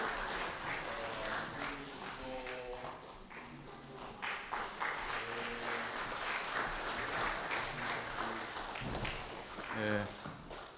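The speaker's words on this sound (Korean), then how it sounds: "전달합니다. 박수 해주세요." A congregation at a Korean Methodist church's Christmas Sunday service claps in a sustained, steady round of applause, with voices talking over and between the clapping.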